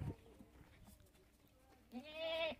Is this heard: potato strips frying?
no